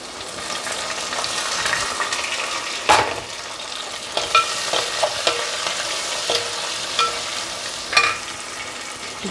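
Onions and curry leaves go into hot oil for sambar and fry with a loud, continuous sizzle, while a utensil stirs with several clattering scrapes against the pot.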